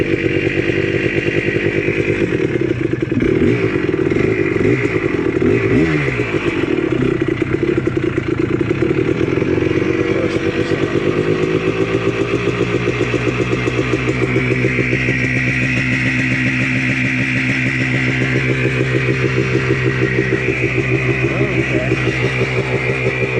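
A Honda ATC250R three-wheeler's engine running at a high idle, loud and close: a steady, buzzy two-stroke drone that wavers slightly in pitch and carries on continuously.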